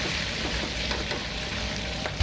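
Prawns frying in hot oil in a wok, a steady, dense sizzle with crackling pops throughout, close and fairly loud.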